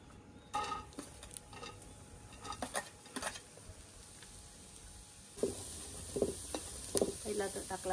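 Two onions fry in a pan for an Agri-style dish, with a faint sizzle under scattered clinks and scrapes of stirring. The sound is quiet and close, with sharper metallic taps in the second half.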